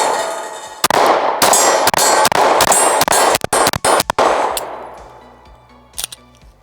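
Rapid string of loud gunshots from a Stoeger STR-9MC compact carry pistol firing 115 grain Monarch brass ammunition at an outdoor range, a dense volley of sharp cracks with ringing echoes, then two final shots after a pause.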